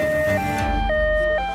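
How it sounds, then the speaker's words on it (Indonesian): An ambulance siren wails loud and close in a steady two-tone pattern, alternating high and low pitches about every half second with no voices. "Ambulan sudah tiba."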